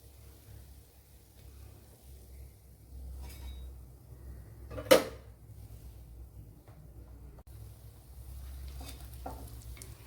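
Onion fritters, a Kerala-style tea-time snack, frying in oil in a pan as they are turned over: a faint, steady low sizzle with a single sharp clink midway and light scraping toward the end.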